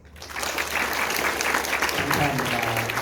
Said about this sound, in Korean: 박수 한번 해주셔야 되는데.